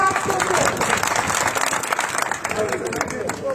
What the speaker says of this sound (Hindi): वहां पर जोरदार ताली है